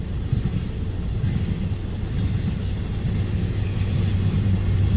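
CN freight train U754, with a rear distributed power unit, rolls past at Ladysmith. A loud, close, continuous rumble of wheels and cars carries faint high squeals and no voices.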